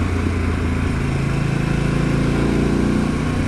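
Harley-Davidson Pan America motorcycle with an aftermarket exhaust, a steady loud engine rumble throughout, held at a constant throttle with no talk.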